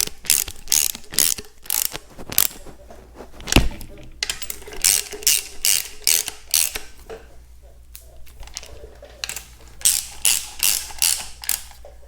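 A ratchet wrench tightening bolts during engine reassembly on a Farmall tractor, loud close bursts of rapid clicking that come in repeated strokes with short pauses between runs, and a single heavier clunk partway through.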